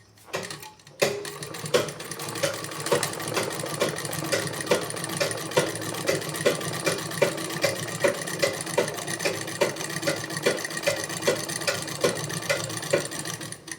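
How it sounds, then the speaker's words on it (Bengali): A sewing machine stitches in a steady, rapid rhythm of close mechanical clicks and whirring, running continuously after a short pause at the start, with no one speaking. "তো মেয়েটা সেলাই করছে,"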